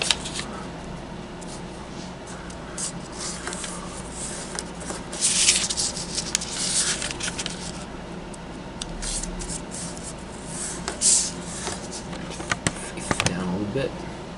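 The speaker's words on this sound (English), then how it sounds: "Alright, and fold the two sides to the crease." Origami paper, a six-inch square, crinkles and rustles as it is creased and folded by hand in a hotel room, soft scattered crackles with a few louder bursts under ongoing talk.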